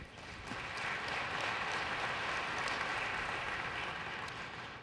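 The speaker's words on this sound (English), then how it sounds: "let's give a quick round of applause to our autonomous racer." Audience applause at a large tech conference keynote, steady broadband clapping from a big crowd that swells in quickly, holds evenly and tapers slightly at the end, with no talking over it.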